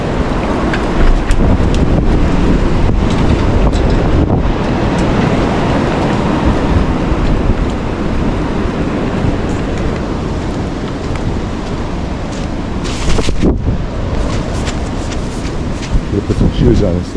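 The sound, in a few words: strong wind outdoors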